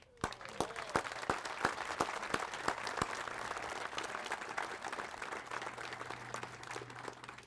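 An audience claps at the dedication of the Donald G. Stratton Bridge. The applause is soft and somewhat distant, with a few sharp, evenly spaced claps standing out over the general patter and faint crowd murmur.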